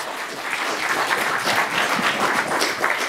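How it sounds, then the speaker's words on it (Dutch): An audience applauds a panel of speakers at a Dutch academic event on the seventeenth century, a steady dense wash of clapping from many hands filling the room without a break. "Een heel groot applaus voor Maarten Prak."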